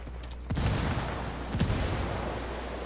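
Frag grenade blasts in Ghost Recon Wildlands gunplay: two loud, low booming bursts about a second apart, with a sustained rumble of combat noise between and after them.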